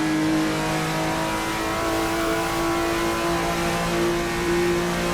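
Loud, continuous engine drone from a turbocharged Porsche 935 race car in Assetto Corsa EVO, held at fairly steady high revs with slight pitch wavering.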